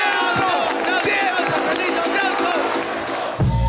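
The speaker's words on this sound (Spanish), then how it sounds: "¡Aplausos!" A crowd at a Spanish-language rap battle applauds and cheers loudly, with dense clapping, whoops and shouts filling the whole stretch before a brief thump at the end.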